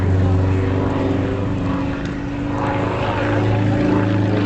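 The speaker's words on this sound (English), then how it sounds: "That's a heavy aircraft doing this." Heavy propeller aircraft flying aerobatic loops at an air show, a loud sustained engine drone with a steady low propeller hum and a gentle swell in intensity.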